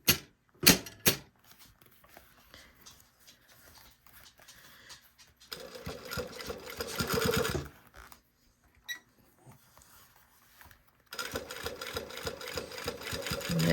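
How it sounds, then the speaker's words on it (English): Home sewing machine stitching a second pass over a fresh seam on a Style Arc Ziggi jacket body, heard in two bursts of steady whirring, one mid-clip and another near the end, separated by quiet pauses and a few clicks. "I'm just gonna sew right on top of that line I just sewed"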